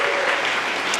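A theatre hall audience at a startup pitch event claps for a sponsor, loud, continuous and dense applause that fills the whole moment without pause.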